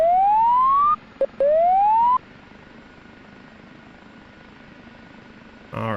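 The turbine engine of an OH-58D Kiowa Warrior helicopter in the DCS flight simulator whines as the throttle opens. Two rising tonal sweeps climb in pitch, break off briefly, then settle into a quiet steady hum. No one speaks.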